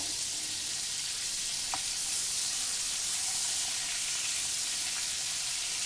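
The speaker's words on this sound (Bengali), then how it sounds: "চিকেনগুলো আমি তেলের মধ্যে ভালো করে উল্টে পাল্টে ভাজা করে নিলাম।" Marinated chicken frying in oil in a pan, a steady, dense sizzle holding at an even level throughout, with one brief faint clink partway through and no voices.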